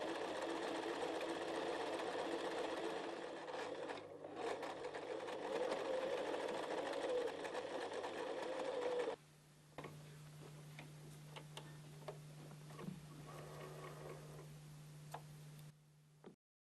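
An Empisal Protea Elite sewing machine runs in steady bursts, its fast mechanical ticking loud and continuous, then drops to a quieter, slower hum with scattered clicks of the needle toward the end.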